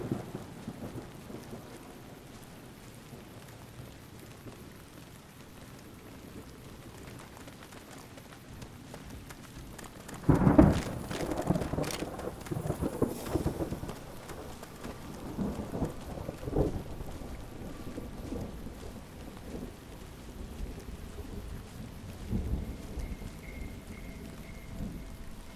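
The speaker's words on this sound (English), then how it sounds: "Sounds like rain." Rain falls in the Fallout New Vegas game world. A soft, steady patter runs for several seconds before a loud thunder crash and a long rolling rumble, after which heavier rain keeps hissing underneath.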